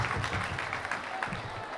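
Audience at a school graduation ceremony claps for the band, a short stretch of fairly soft, continuous crowd applause with a low rumble beneath it.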